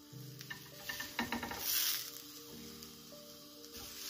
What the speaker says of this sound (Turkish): hemen tavada kızartıyorum.